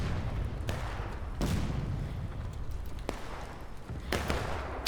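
Rifle fire in the online multiplayer Civil War game War of Rights, on an Antietam map during a close exchange at a capture point: sharp shots crack out every second or so over a constant rumbling din of battle.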